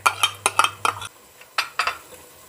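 Yogurt being stirred and fried into masala in a cooking pot, heard as a series of sharp metallic spoon scrapes and clinks against the pot, close and fairly loud, with short pauses between bursts.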